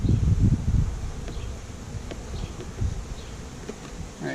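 Bees buzz in a soft, rough drone close by, with a louder burst of buzzing at the start and occasional faint rustles.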